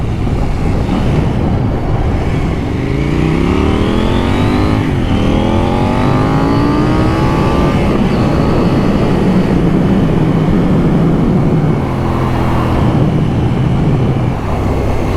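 A KTM 790 Duke motorcycle engine revs loud and close, climbing through the gears in rising surges over strong rushing wind noise, then easing off into a steadier drone.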